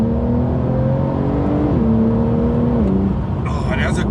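A Porsche 992 Carrera S (911) engine drones loudly and steadily from inside the cabin while the car is driven hard, its pitch stepping down briefly partway through as it pulls.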